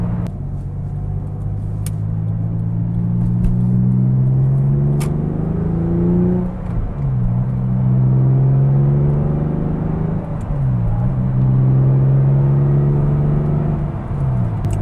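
Porsche 911 flat-six engine with a stainless Evox exhaust, heard from inside while driving: a steady, loud low drone rising and falling through gear changes, with no talk over it.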